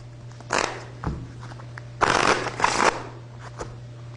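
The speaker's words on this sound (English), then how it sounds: "I'm going to shuffle this regular deck of cards." A regular deck of playing cards being shuffled by hand, with several close riffling bursts and soft taps against a steady low hum, no voices.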